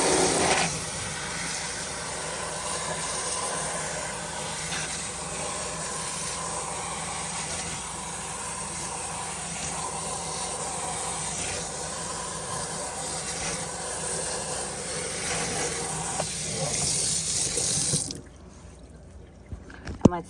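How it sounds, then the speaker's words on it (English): Cold tap water streams steadily through a K&N lifetime cabin air filter from a 2021 Hyundai Elantra, a broad, continuous rushing hiss held close for about eighteen seconds before cutting off abruptly into near quiet. "rinsing it again through the clean side downward into the dirty side with cool,"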